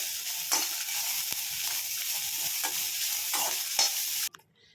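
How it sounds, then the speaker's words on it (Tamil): Vegetables and peanuts sauté in a pan with a steady sizzle and scraping stirs at an irregular rhythm, close and clear, before the sound cuts off abruptly near the end. "இது நல்லா வதங்கிடுச்சு"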